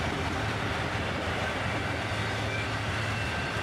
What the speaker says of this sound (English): Apparently S44 ACHs lead this northbound train, with some auto wrecks starting off here.